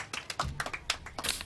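Scattered clapping in a classroom after a student's exam score is read out, a short burst of quick, uneven handclaps from a small group, fairly faint.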